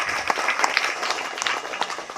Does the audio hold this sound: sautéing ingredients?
no